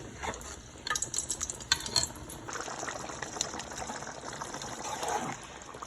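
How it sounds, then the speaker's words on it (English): Browned cooking liquid poured into a pot while a legume stew is being made, a busy splashing and sizzling stream with clinks of utensils, loud and close, with no talking. "And I'm gonna pour it inside of this one."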